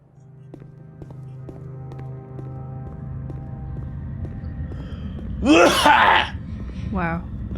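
A single sharp sneeze bursts out near the end over a low droning hum and faint background sound, with a brief vocal sound just after it.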